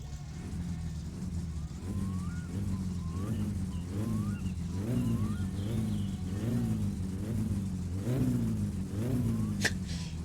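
A car engine in My Summer Car cranking on a low, degraded battery: a steady drone with a repeating rise-and-fall pattern as the starter turns, fairly loud and continuous for about ten seconds, with a sharp click near the end.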